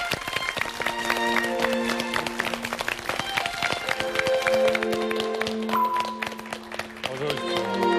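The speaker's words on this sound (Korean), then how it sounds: "여러분 박수로 맞이해주십시오." A Korean TV talk-show studio audience claps to welcome guests onto the set, steady applause mixed with bright background music and sustained tones across the whole stretch.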